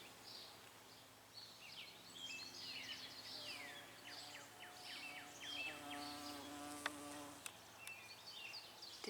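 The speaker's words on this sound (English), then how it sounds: "Did you hear that bee by us?" A bee buzzes close by in a garden in mid-June, a steady drone over an outdoor backdrop thick with chirping birdsong; faint and continuous throughout.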